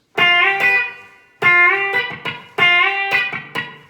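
An electric guitar lick played with a B-bender repeats three times, with two ringing notes each followed by short, muted, dead plucks, clean and close.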